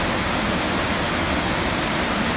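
Creek water rushes steadily through a cave near Paradise Valley, Montana, a dense, continuous broadband roar that fills the space from start to finish with no voices over it.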